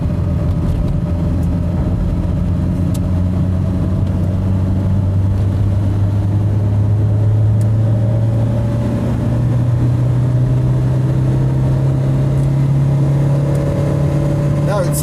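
A Skoda Favorit car engine is pushed hard uphill on a faster road, a strained mid-pitched drone that climbs steadily in pitch over a long stretch, loud and continuous inside the cabin.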